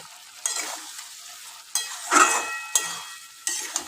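A pointed gourd curry sizzles in a pan with fried gourd and cooked-down spices, several bursts of frying hiss and scraping stirs rising and falling over a few seconds.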